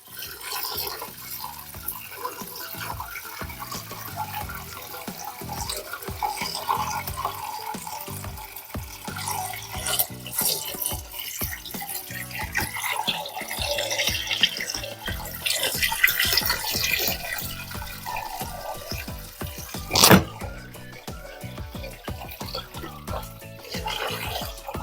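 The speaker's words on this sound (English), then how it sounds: "Put your hand under it so it goes in slowly. Yeah, just pour slowly." Water is poured slowly from a bucket into an aquarium during tank maintenance, making a soft, continuous trickle and splash throughout, with one brief louder splash near the end.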